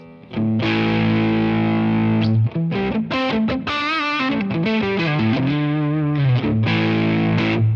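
Loud overdriven electric guitar chords and single notes played alone through an overdrive pedal with the drive raised, thick and saturated, with a boomy, slightly muddy low end.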